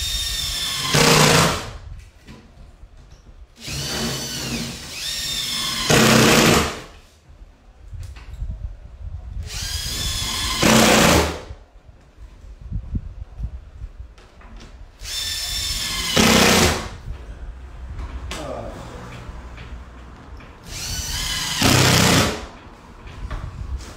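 Power drill driving screws into hardboard and plywood during a seafront building upgrade at Jaywick Sands, five loud whirring bursts of a second or so each, spaced several seconds apart, with quieter workshop noise between.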